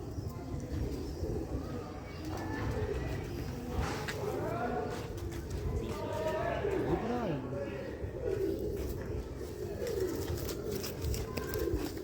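Sialkoti chohay pigeons cooing steadily throughout, with someone talking over the birds.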